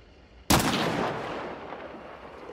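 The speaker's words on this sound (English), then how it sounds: "He didn't realize I'm shooting at him." A single loud gunshot in a bounty hunt game, a sharp crack followed by a long rolling echo that slowly fades, heard alone without talk.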